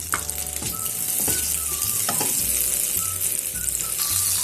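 Butter sizzles steadily in a pan, a close, continuous hiss with small crackles and a few light stirring clinks, no voices.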